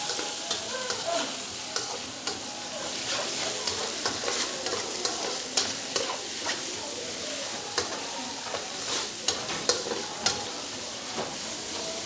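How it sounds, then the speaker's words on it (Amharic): Meat tibs sizzling in an iron pan while being stirred, a constant frying hiss broken by repeated scraping and clinking of the utensil against the metal, moderately loud and close. "ፋኖስ ፏ እያደረገችልን ነው የብረት ምጣድ ጥብሳችንን"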